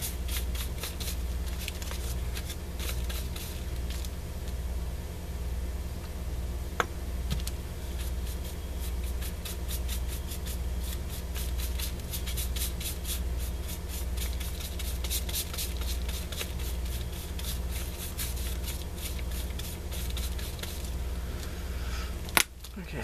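Sewing machine stitching recycled paper envelopes, a fast steady mechanical rattle of the needle running continuously at moderate volume, with a couple of sharp clicks.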